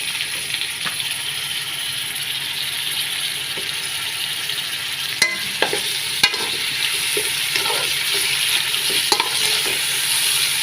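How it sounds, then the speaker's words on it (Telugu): Chopped tomato pieces frying in hot oil over ginger paste in a pan, a steady close sizzle running throughout with a few sharp clinks of a spoon against the vessel, no talking. "ఇప్పుడైతే మనమైతే కట్ చేసి పెట్టుకున్న టమాటా ముక్కలు అయితే వేసుకుందామండి ఇలా"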